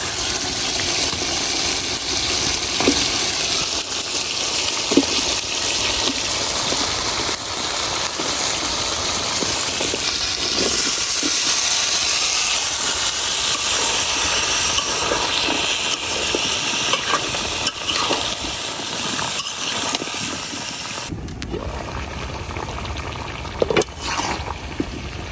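Sweet pumpkin cooking with pangas fish in a pan, a loud, steady hiss and sizzle running throughout with occasional clinks of a utensil, close, with no voices.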